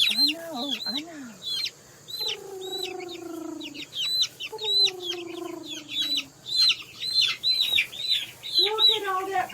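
Chickens cluck and squawk close by, with drawn-out calls and sharp chirps overlapping in an uneven, lively chorus.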